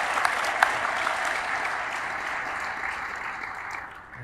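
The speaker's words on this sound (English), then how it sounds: "Everybody give him a round of applause." A crowd claps steadily for a few seconds, dense applause that fades slightly at the end.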